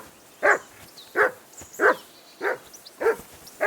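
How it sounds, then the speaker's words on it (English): A dog in Kingdom Come: Deliverance II barks six times in an even, steady rhythm, each bark short and fairly close, with quiet background between them and no voices. "Henry, hey, call off that mutt of yours."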